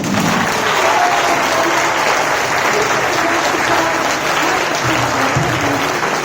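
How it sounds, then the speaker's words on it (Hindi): Audience at an International Women's Day program breaking into loud, sustained applause, a dense wash of many hands clapping that fills the room steadily throughout. "दोनों हाथ उठाइए, अपने लिए जोरदार तालियां बजाइए।"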